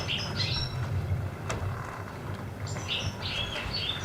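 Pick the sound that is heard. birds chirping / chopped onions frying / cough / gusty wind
birds chirping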